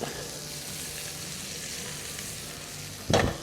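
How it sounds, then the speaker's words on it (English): Shallots sizzle steadily in a hot pan, with a short louder scrape of stirring near the end. "You hear that sizzling noise? That's what you want when you saute it."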